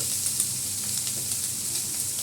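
Ginger paste sizzles loudly in hot mutton fat in a pan, a steady close crackling hiss with a few light stirring clicks and no talk.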